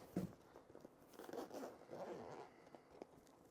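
An Oakley case holding Oakley Flight Deck snowboard goggles is quickly unzipped, a short raspy zipper pull running for a couple of seconds, close and fairly quiet, with no talking.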